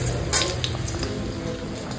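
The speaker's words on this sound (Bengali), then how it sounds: "এখন জাস্ট করছি হলো গিয়ে ওই যে মাছের ডিমের বড়া করছি। এই যে হালকা করে একটু ভেজে উঠিয়ে নেব" Fish roe fritters frying in a pan give a steady close sizzle throughout, with a couple of brief brighter crackles near the start.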